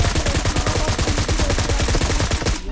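Automatic gunfire in a video game, a loud rapid burst of evenly spaced shots filling nearly three seconds before cutting off abruptly.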